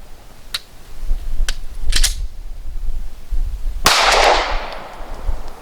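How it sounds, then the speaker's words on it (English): Pistol failure to fire being cleared at full speed: a few crisp mechanical clicks and clacks of the slide, then a loud sharp shot with a hissing decay, close and distinct. "So we'll show it one more time at full speed. It will experience and clear a failure to fire."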